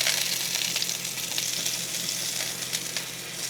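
Seasoned sausage with peppers and onions sizzles and crackles on a Ninja Woodfire Grill, a steady close frying hiss with no talk.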